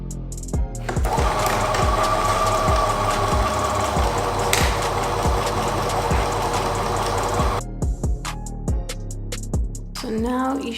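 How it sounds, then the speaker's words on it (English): A sewing machine runs steadily, stitching down the edge of a seam on a peplum top, with a continuous mechanical whir and regular ticking pulses for about seven seconds before it stops and handling noises follow. "So you want to be sewing down this edge"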